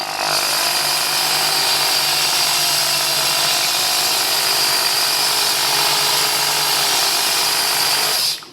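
A drill spins a boring bar with a continuous whining motor drone, steady and loud for several seconds before winding down abruptly at the end.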